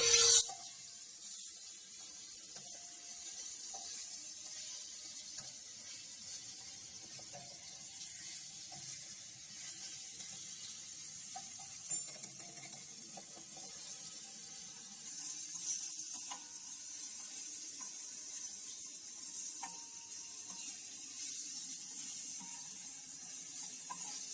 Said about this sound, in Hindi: तीन से 4 मिनट हम इसको लहसुन के अंदर भून लेंगे